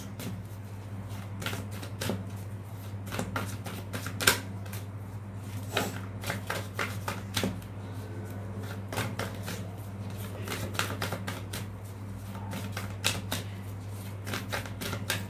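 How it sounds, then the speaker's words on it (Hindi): Tarot cards being shuffled and spilling, a steady soft riffling and flicking with sharp card snaps scattered throughout, close and fairly quiet over a low constant hum. "काफी सारे कार्ड्स गिर गए हैं, even more than 6"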